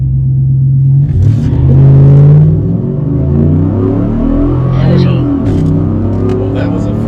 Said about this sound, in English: We'll go take it for a drive, just cruise around, let the truck get used to the tune